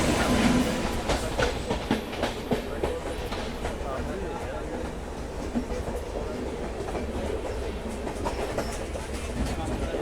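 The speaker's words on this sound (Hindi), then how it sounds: "ये जनशताब्दी इंटरसिटी है कोई" A Jan Shatabdi Intercity passenger train passes close by, its steady, loud rumble broken by repeated clattering wheel beats over rail joints, with speech faintly audible beneath.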